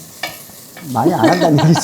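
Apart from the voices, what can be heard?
stir-frying in a pan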